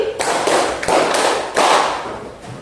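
A classroom group claps in unison on a teacher's call for five claps, giving three broad bursts of near, fairly loud clapping with short gaps between them and no talk over it.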